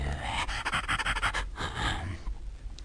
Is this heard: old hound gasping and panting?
yes